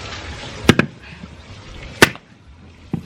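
Coconut being broken open for homemade Jamaican coconut oil, heard as three sharp, loud cracking blows spaced roughly a second apart over a low background hum, with no talking.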